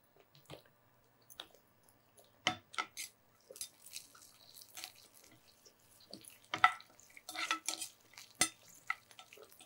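Coconut frying in ghee as it is stirred in a pan, with quiet, scattered scrapes, soft squishes and occasional spoon clinks in irregular bursts.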